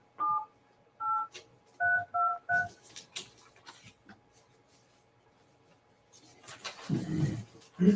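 Telephone keypad tones entering a conference call code, with about six short distinct beeps in a quick uneven sequence, followed by faint background noise and a low thump at the end.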